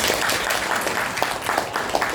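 Audience applause at a joint Toastmasters meeting in Vietnam, a dense, continuous patter of many hands clapping at close range with no pauses.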